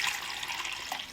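Water pours in a short, soft trickle into a tarantula's water dish until it overflows, a faint, close splashing with no other sounds.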